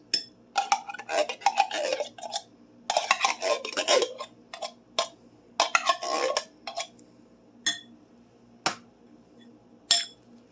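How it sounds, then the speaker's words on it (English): Utensil scraping and clinking against a casserole dish while canned chicken, cream soup and stuffing are mixed together, in several bursts of close, bright clatter separated by short pauses. "Make sure you mix it up."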